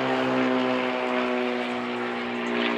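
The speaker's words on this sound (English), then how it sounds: "That plane go over." A propeller airplane drones steadily overhead at a car show featuring Ferrari supercars, a continuous loud engine hum with stable tones that holds for the whole span, no voices over it.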